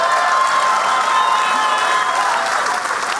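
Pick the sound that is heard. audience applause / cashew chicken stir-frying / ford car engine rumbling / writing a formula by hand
audience applause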